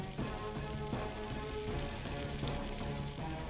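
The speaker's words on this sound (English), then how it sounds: "Frying foods doesn't necessarily make them greasy." Food sautéing in the Iron Chef Wii cooking video game gives a steady, loud frying sizzle that runs unbroken over a busy tonal game backdrop.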